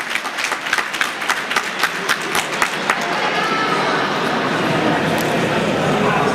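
Audience at an amateur boxing event applauding a fighter in the red corner: a loud announcer's voice over scattered claps at first, then full sustained applause filling the hall.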